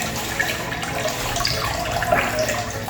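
Water flows through the flow control valve of an electric vehicle's lithium-ion battery cooling system, a close, steady gurgling trickle with small bubbling spurts throughout.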